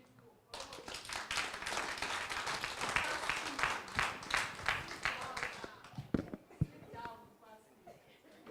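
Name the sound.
audience applause after a presentation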